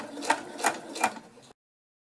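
Sewing machine stitching all around the fabric squares of a stuffed pet mat for a dog or cat, about 0.5 cm from the edge: three rhythmic mechanical bursts, close and fairly loud, then it stops abruptly.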